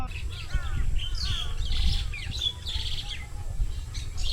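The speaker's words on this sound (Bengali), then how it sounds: "পাখির ডাক কি আপনারা শুনতে পাচ্ছেন" Birds chirp and whistle near a garden in a remote char area of rural Bangladesh, with several short, bright calls repeating close by over a low background rumble.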